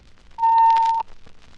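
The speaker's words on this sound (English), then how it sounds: "When you hear a single tone that sounds like this," A single steady electronic beep, about half a second long, clear and mid-pitched against faint background noise.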